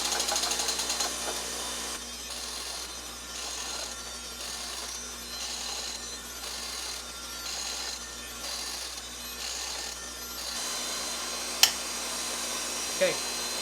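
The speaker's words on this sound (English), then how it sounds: "I'm advancing the table on both strokes because we're really just sparking out." A surface grinder sparks out on a magnetic chuck, giving a faint, steady abrasive hiss that rises and falls in regular strokes as the table moves back and forth, followed by a couple of brief clicks near the end.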